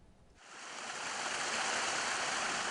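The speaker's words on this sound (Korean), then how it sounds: "계곡 사이로 물줄기가 거침없이 흘러갑니다" A mountain valley stream at Dalcheon Valley on Cheonjusan in Changwon flows freely, its steady rushing water swelling in after a quiet opening and holding a continuous close, broadband wash with no talk.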